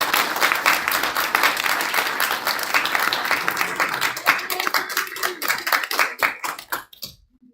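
An audience at a spring speakers forum applauds a speaker with a dense, loud burst of clapping that holds steady and then thins into scattered claps before stopping.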